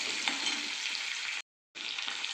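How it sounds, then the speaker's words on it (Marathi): Onion fries in hot oil alongside browned peanuts in a pan for phodnicha bhaat: a dense, even crackling sizzle heard up close, interrupted by a short silent gap before resuming. "आता कांदा चांगलं परतून घ्यायचं आणि लगेच लसूण देखील आपल्याला टाकायचा"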